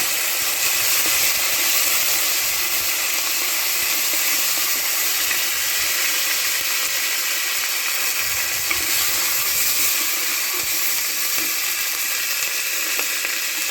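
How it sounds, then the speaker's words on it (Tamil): Onions, green chili and curry leaves sauté in a pan for a quail gravy, producing a dense, even hiss of frying that runs loud and unbroken throughout, with no speech. "அது கூட வெங்காயம் இது நல்லா வதக்கிக்கிங்க"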